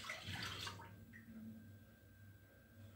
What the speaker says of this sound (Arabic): غادي نضيف هذا الكاس ديال الماء ما دافي وكاس ديال الحليب دافي